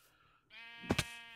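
Video game sheep let out one short, close bleat, wavering over two quick pulses, above a steady hum of game ambience and music.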